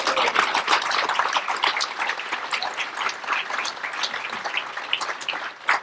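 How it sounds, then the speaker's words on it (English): Audience applause at a dedication event honoring Norman H. Conway, a steady broadband wash of many hands clapping close by, sustained for several seconds with a brief swell at the end. "let's give his mom a big round of applause"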